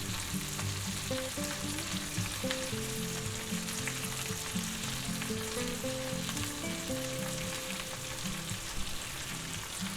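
Butter melting in a cast iron skillet, a soft continuous sizzle with faint stirring, layered under steady background music, with no talking.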